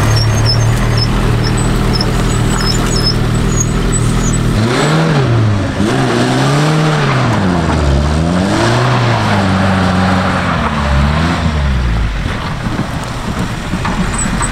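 A car crawls in first gear over bumpy off-road ground, its mid-pitched engine steady, then rising and falling with gentle revs as it lurches over the terrain, loud and close with no talking.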